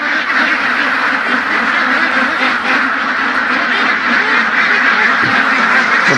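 A dense flock of ducks quacking loudly and continuously on a family duck farm in Laos, the overlapping calls close and alone with no talk.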